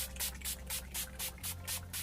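A setting spray misted onto the face in quick repeated bursts, about seven short hissing puffs in a steady rhythm, close and fairly loud, with no talking.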